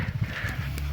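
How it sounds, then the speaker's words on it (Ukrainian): A herd of horses, mares and a stallion, nearby in the Kosiv mountains of Ukraine, with hooves clopping in an uneven rhythm over a low steady background; no one speaks. "Гарні коні, є на що подивитися."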